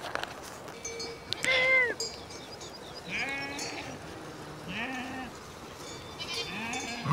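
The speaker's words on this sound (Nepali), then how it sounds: "हामी हिँड्दै बाटोमा भेडाहरू पनि भेटेँ, थोरै भेडाहरू पनि हेरौँ है" Sheep bleat on a high mountain pasture, several wavering calls from separate animals at close to moderate distance over steady outdoor background noise, with no talking.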